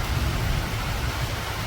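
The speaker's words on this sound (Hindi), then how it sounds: "तो बारिश होने लगी है तेज" Heavy rain pours down outdoors as a dense, steady roar, close and loud, with a low rumble underneath and no talking.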